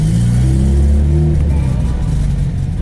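A turbocharged Honda Civic pulls away and accelerates, its engine revving up loudly and close, rising in pitch before settling into a steady drive with some road noise.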